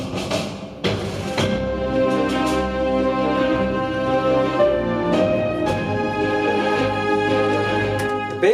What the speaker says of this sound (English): But there are strings added, you know, staccato strings.